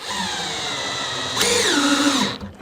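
A cordless power drill drives a screw into a plastic septic tank: steady motor whine that rises sharply in pitch, bogs down and slides lower as the screw bites, then cuts off abruptly.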